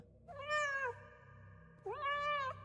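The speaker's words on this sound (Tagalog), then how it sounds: "Isasara ko na sana ang pinto nang makarinig ako ng tunog ng pusa." A cat gives two clear, drawn-out meows separated by a short pause, close and distinct over quiet low background hum.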